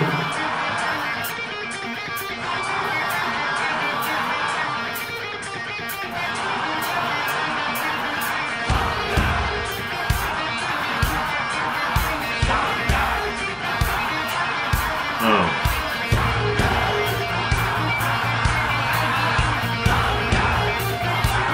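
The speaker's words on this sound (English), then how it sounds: "That's crowd. A whole, like, football stadium." A huge football-stadium crowd roars and cheers through AC/DC's Thunderstruck, a dense, loud wall of voices with rhythmic pulses and chanting running throughout.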